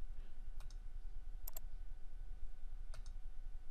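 Mouse clicks while working in Revit software, three faint, sharp clicks spaced about a second apart over a quiet background hiss.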